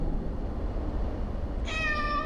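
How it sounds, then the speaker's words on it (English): A cat meows inside the VR game Waltz of the Wizard, one drawn-out, clear meow that comes in near the end over a steady background hum. "Yay, Kitty! I love you, Kitty."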